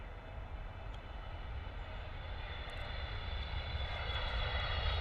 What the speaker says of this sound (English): China Eastern 777 freighter coming in.